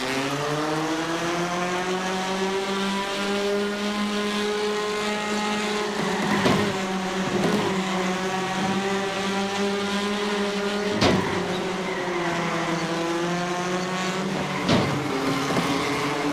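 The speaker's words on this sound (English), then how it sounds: "Listen, it's a touring car." Touring car engine in the iRacing video game drones steadily, with a rising and falling pitch as it works through the gears, loud and continuous, with a few sharp knocks that could be door contact.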